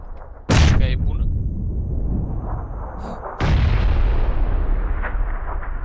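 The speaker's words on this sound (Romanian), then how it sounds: "Aia nu era grenada ce-a sărit?" Grenade explosions in the battle-royale video game PUBG: two loud booming blasts about three seconds apart, each with a sharp crack that decays into a long rumbling tail, with faint voices in the background.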